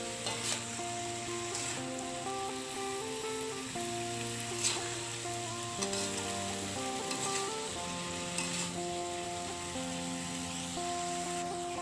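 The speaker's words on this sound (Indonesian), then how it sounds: "Kita tumis lagi, Bu." Green beans sizzle steadily as they stir-fry in a hot pan, a continuous close crackling hiss with occasional louder scrapes and pops from stirring, with faint background tones underneath.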